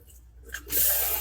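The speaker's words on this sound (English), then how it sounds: "Turn the water on." A swivel faucet over a ceramic farmhouse sink in a camper van kitchen turns on, water rushing steadily and close after a few small handling clicks.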